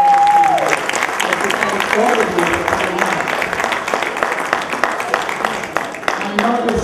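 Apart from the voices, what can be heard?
audience applause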